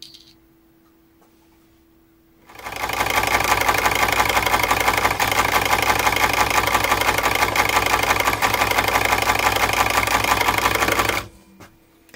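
A Singer M100 Magic Taylor sewing machine, driven by a 12-volt motor pressed against a large rubber wheel, runs steadily for about nine seconds with a fast mechanical rattle, starting and stopping abruptly, close up with no talk.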